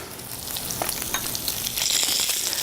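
Cold breaded salmon sizzles steadily in a hot non-stick pan on medium to medium-low heat, a dense, bright crackle with scattered pops, close and alone.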